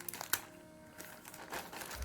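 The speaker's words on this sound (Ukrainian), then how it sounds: "Від Укрпошти і перейдемо, перейдемо до розпакування нашого" Parcel packaging being unwrapped, with soft crinkling and rustling bursts close by at a low level, a few sharper crackles near the start and a louder handling sound at the very end.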